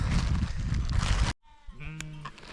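A loud rush of rain on the Bagji Bugyal alpine meadow gives way abruptly to a goat's bleat, a wavering cry heard close up.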